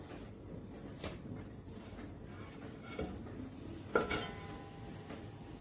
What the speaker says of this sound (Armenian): Խմորն արդեն եփվել է, ես հիմա այն տեղափոխում եմ հարիչի ամանի մեջ։